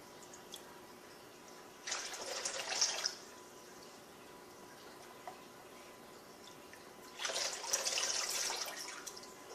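Water runs from a tap into a pot of pinto beans in two separate bursts of about a second each, with quiet room tone in between.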